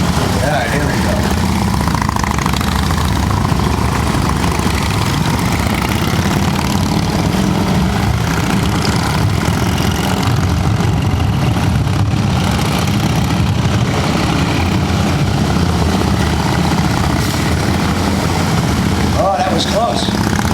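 A group of motorcycles maneuvers slowly in a tight space, with their engines forming a dense, steady, close rumble throughout and speech underneath.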